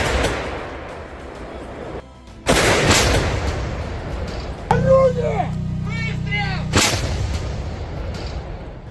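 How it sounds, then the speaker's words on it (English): Heavy artillery and MLRS rocket barrage, launched in waves with fiery trails before erupting into storms of explosions; loud booming blasts and rumbling bursts repeat across the clip, with a sharp whistling, warbling tone in the middle. "MLRS barrages launched in unending waves, trails of fire cutting across the sky before erupting in storms of explosions"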